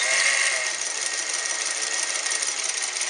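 A vintage Montgomery Ward sewing machine built in Japan runs in reverse, its strong motor giving off a loud, steady whine with a constant mechanical buzz and no pauses throughout.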